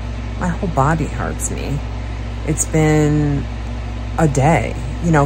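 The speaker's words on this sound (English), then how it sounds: "That's the air conditioner." An indoor air conditioner runs with a steady, loud low hum beneath someone talking while she lies down, the drone never letting up.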